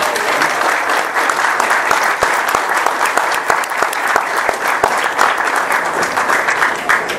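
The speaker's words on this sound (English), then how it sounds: "Can we give them a round of applause?" A crowd applauding steadily at a county commissioners meeting, dense clapping that holds at an even, loud level all the way through.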